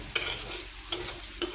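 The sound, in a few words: stirring potato frying in a pan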